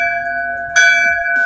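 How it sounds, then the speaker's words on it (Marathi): A bell at a Chinese temple in Mumbai rings with a sustained bright metallic tone, struck again partway with a fresh loud strike, close and alone. "जी समोर बेल आहे म्हणजे घंटा आहे, ती घंटा वाजवायची 3 वेळा"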